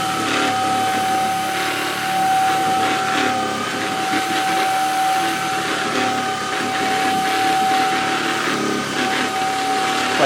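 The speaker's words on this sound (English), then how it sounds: "You can hear the brush roll. This is on low only." A Greenote cordless rechargeable vacuum cleaner with its brush roll spinning on the low setting, a steady whirring motor hum with a thin constant whine and rough brushing texture, close and unbroken.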